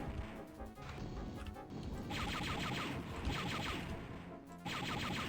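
Rapid blaster fire from a Stormtrooper rifle in the video game Star Wars: Dark Forces, loud continuous bursts of crashing shots with brief gaps between volleys.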